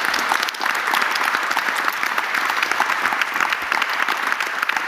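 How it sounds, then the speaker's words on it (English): Dense audience applause fills a conference hall after a panel session on healthier cities, steady and continuous clapping from many hands with no speech over it. "let's have a big round of applause for all of the 5 panelists"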